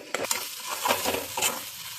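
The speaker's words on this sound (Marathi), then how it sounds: "आता आपण वाटलेलं वाटण घालून घेऊया। यालाही छान मिक्स करून घेऊया।" A spoon stirring ground masala paste with chilli powder in a hot pan, with a few scraping strokes and light clinks over a faint sizzle, close and moderately loud.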